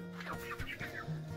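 Backyard hens being fed cluck in quick, nasal bursts, several short calls close by over a steady background.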